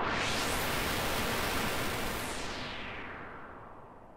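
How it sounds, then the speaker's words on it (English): Synthesized white noise from a software synth plug-in in Pro Tools First, a broad hissing swoosh that starts loud and full, then slowly fades and darkens as the highs roll off over a few seconds, with no voices. "I recorded in some white noise. And it sounds a little bit like this."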